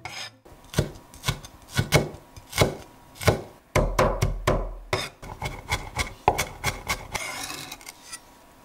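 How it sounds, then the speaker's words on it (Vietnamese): A knife mincing purple shallots on a cutting board for a Vietnamese steamed fermented fish dish: close, steady rhythmic chops with short pauses and some scraping, no talk. "Đầu tiên mình băm nhuyễn hành tím."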